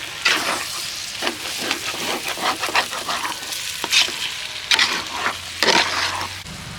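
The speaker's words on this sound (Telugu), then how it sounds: "మసాలా వేగగానే టమాటాలు వేసుకుందాం." Tomatoes fry with masala in a pan, a steady sizzle broken by repeated scraping stirs, close and clear with no talking.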